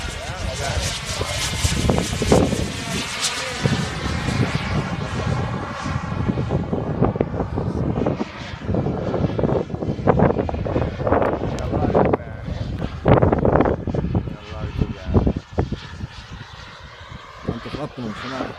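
A light aircraft engine drones in flight amid heavy wind buffeting on the microphone, steady and close, while people talk over it throughout.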